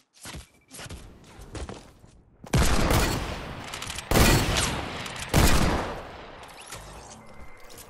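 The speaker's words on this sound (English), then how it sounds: "I'm getting shot with a rifle" Rifle gunfire in a video game, with several loud rapid bursts cutting in and out between short quieter gaps and a few scattered single shots.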